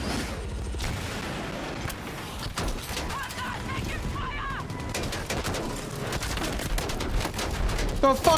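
The God Cannon weapon firing in the video game Battlefield 6: dense bursts of heavy gunfire and booming impacts crackle throughout, close and loud, building toward the end amid chaotic battle noise.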